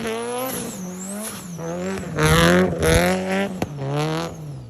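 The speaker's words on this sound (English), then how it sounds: "The car is currently straight piped." A 700-wheel-horsepower Mitsubishi Evo 8 with a straight-piped exhaust, revving hard and loud with a raw, rasping drone that climbs and falls through several sharp rev sweeps, close by, with a high whine riding over it.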